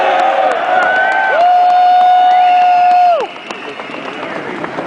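Crowd at an outdoor Second Amendment rally in New Jersey cheering, whooping and applauding loudly and steadily for about three seconds before the roar drops to a lower murmur.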